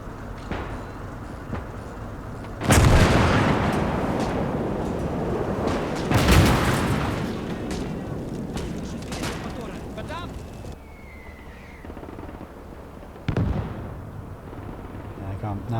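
Tank cannon fire in a WWII real-time strategy game, with three heavy booms landing several seconds apart over a steady rumble of battle noise, while a voice talks intermittently.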